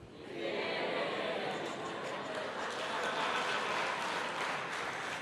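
A church congregation applauds in a steady, even wash of many hands clapping, moderately distant and sustained throughout with no clear pauses.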